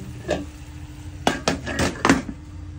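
Coffee with Japanese barley is mixed in a cup, giving a few near, sharp clinks and taps of a spoon against the cup in an irregular rhythm, with a faint hum behind.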